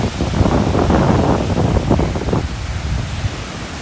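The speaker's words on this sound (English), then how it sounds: "The water is loud today." Loud waves breaking and surging on the Lake Michigan shore at Rainbow Park in Chicago on a windy day, a dense roaring wash with gusts buffeting the microphone.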